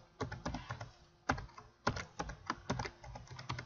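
Computer keyboard keys typed in short irregular bursts of clicks with brief pauses, close and fairly quiet, no voices.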